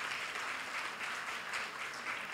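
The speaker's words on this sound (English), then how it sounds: "That calls for a round of applause," Audience applause at a book launch for a cookbook on sattvic cooking, steady and dense clapping from a room of guests, sustained without pause.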